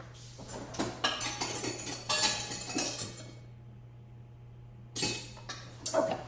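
A metal measuring teaspoon clinks against dishes while cinnamon is measured, with several close, bright metallic taps and scrapes, a quiet pause in the middle, then a few more clinks.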